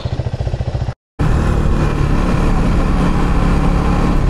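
A KTM Duke 390 motorcycle engine runs loud and close, a pulsing idle that cuts out briefly and then returns as a steady, stronger drone.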